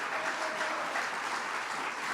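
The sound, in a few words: congregation applause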